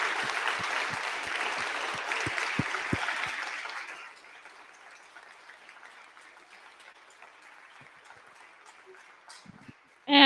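Audience applause at a university dance seniors showcase, dense clapping for about four seconds that thins and fades into a quiet room with scattered claps.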